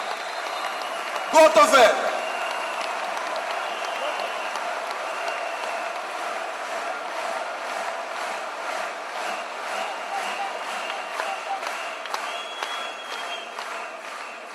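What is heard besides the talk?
crowd applauding at a political rally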